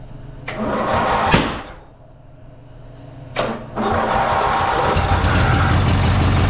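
Riding lawn mower engine cranking twice after a push-button ignition, the second attempt catching and settling into a loud, steady idle close by.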